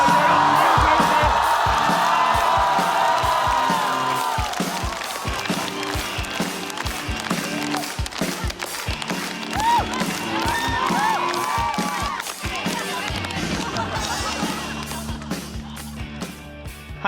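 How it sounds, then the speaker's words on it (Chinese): A live stand-up comedy audience claps and whoops for the team captain, loud rippling applause with cheers at first, thinning into scattered claps and chatter as the crowd settles. "朋友们，来给队长鼓掌"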